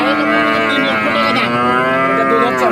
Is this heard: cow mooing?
yes